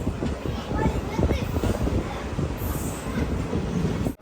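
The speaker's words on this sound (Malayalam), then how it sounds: "ട്രെയിൻ ഇപ്പം മാഹി റെയിൽവേ സ്റ്റേഷനിൽ എത്തിയിരിക്കുകയാണ്." A passenger express train pulls into Mahe railway station, its wagons rumbling and clattering over the rails with a rising metallic squeal of wheels, steady and close throughout, and voices chatter beneath the noise.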